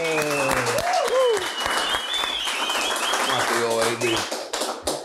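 Audience applause welcomes the guest Darell on a Spanish-language interview show, with steady clapping running throughout and a voice speaking over it.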